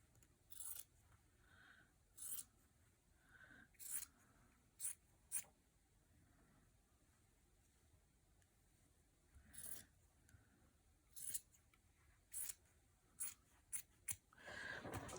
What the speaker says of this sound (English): Then we'll cut the 2 folds on the end.